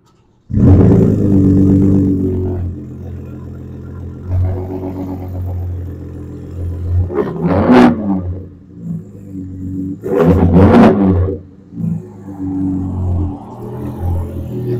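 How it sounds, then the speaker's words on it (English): A new 2022 Ford F-150 Raptor pickup truck roars to life on a cold start, a loud deep exhaust burst settling into a rumbling idle, followed by several sharp revving blips up close. "so that we can get that good exhaust note that the Raptor is known for"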